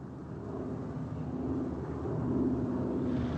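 A propeller plane approaching over open water, heard from a ship's bridge as a steady low drone that swells slightly louder toward the end.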